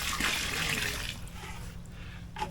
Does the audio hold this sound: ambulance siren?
no